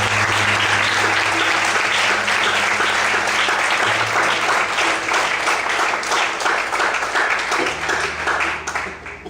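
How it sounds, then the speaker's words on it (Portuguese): A church congregation applauds loudly and continuously, a dense, full roar of clapping that fills the room throughout and tapers slightly at the close. "Você pode aplaudir de forte."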